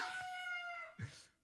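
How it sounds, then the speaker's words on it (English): Rooster crowing sound effect from the Mario Party Superstars video game, a faint, drawn-out tonal crow that fades, ending in a short lower squawk. "Oh, cock-a-doodle-doo."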